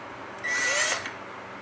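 A short, fairly faint burst of a power drill spinning on a screw without gripping it, under half a second, rising then fading against a quiet background hum.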